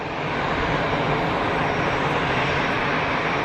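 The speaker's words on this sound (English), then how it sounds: "we've got BA lined up for departure" A British Airways airliner lined up for departure at Geneva Airport gives a steady, loud broadband engine roar that holds evenly throughout, with no voices over it.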